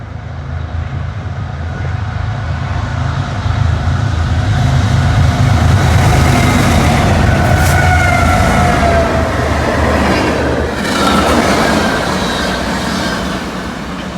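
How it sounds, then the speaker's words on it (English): A BNSF manifest freight train led by three GE Evolution-series locomotives rolls past a depot, a loud sustained rumble of engines and wheels with a horn-like tonal wail rising near the middle. "The next one was another BNSF Elkhart originating manifest"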